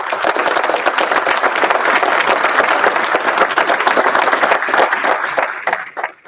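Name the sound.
applause at university honors day ceremony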